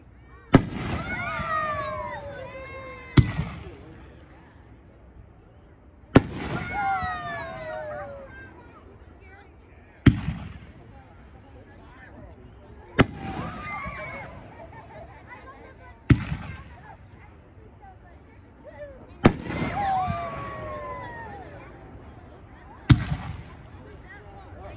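Fireworks shells burst at a pyromusical demo day, each sharp boom followed by crackling trails and whistling tails, about eight big explosions spaced a few seconds apart, with a faint crowd murmur underneath.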